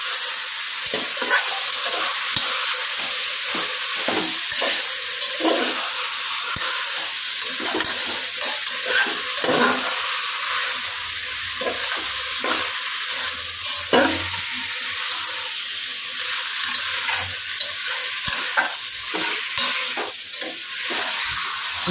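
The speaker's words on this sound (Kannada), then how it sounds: "ಚಿಕನ್ ಆ್ಯಡ್ ಮಾಡ್ಬಿಟ್ಟು ಸ್ವಲ್ಪ ತಿರ್ಸೋಲ್ಲ, ಚೆನ್ನಾಗಿ ರೋಸ್ಟ್ ಆಗುತ್ತೆ" Chicken pieces roasting for biryani sizzle steadily in a hot pan while a spoon stirs and scrapes through them in repeated strokes, close and fairly loud with no voices.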